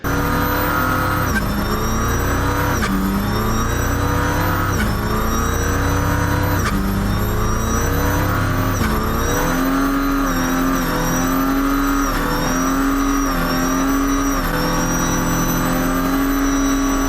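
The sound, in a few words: Mercedes OM606 inline six turbo diesel engine revving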